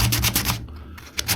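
Paint on a 1976 BMW 2002 is scuffed by hand, giving a close, quick run of rhythmic rubbing strokes, a brief pause, then a few more strokes, with no talking.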